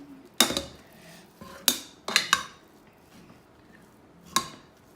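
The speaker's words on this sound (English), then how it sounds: "You need to give that a nice good stir and then add your vegetables." A spoon stirring a mud pie mixture in a bowl, heard as a few sharp, separate clinks against the bowl with quiet scraping between them, close by.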